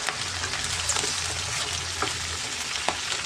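Cut potatoes and vegetables fry in hot oil in a kadai (wok) for a prawn chorchori, a steady close sizzle with faint crackles and occasional stirring clinks throughout, with no talking.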